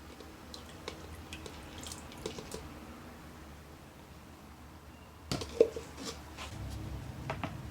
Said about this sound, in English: So I'm going to go ahead and pour our coffee lye solution right on in there.